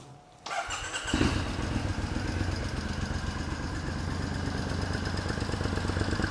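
An air-cooled 2015 Triumph Scrambler 900 motorcycle engine fires up and settles into a steady, loud, rumbling idle close by, with no talking.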